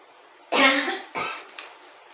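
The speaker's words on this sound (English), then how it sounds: "Oh, why am I coughing?" A close, hoarse cough followed by a second shorter cough and a faint third, spaced within about a second.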